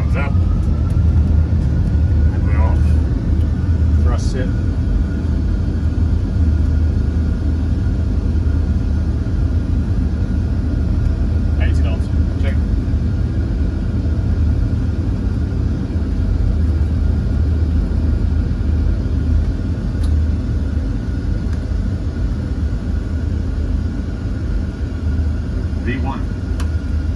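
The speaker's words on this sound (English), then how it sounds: "Thrust comes up and we're off." Boeing 747 engines at takeoff thrust make a loud, steady, deep roar with broadband rumble throughout, heard from inside the aircraft.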